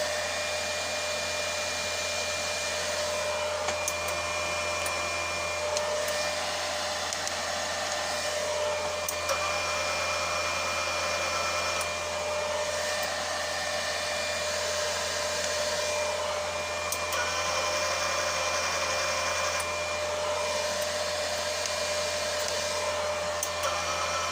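Wire feeder motor of a Dnipro-M SAB-310 welding inverter that has a feed fault, spinning with a steady, close whirring hum that holds even for over twenty seconds, with faint periodic ticks and no talking.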